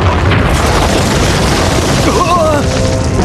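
A loud, sustained crashing rumble fills a school building as a ceiling collapses, with a voice briefly crying out near the end.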